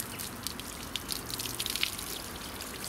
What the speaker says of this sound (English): I can actually take the hose and dry off the vehicle.